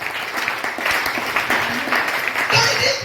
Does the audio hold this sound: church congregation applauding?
yes